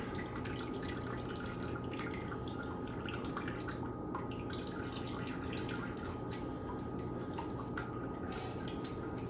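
Steady dripping and trickling of liquid draining from a grain bag while home brewing wheat beer, continuous and close, with no talk.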